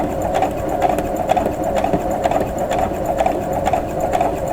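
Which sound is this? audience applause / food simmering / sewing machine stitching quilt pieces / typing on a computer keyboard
sewing machine stitching quilt pieces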